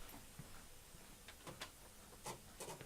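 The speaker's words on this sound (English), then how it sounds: "You can hear my printer going probably." A home printer runs quietly nearby, giving off soft, intermittent mechanical ticks and short whirring bursts at an uneven rhythm, with no voices over it.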